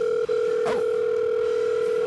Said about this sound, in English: Little dial tone.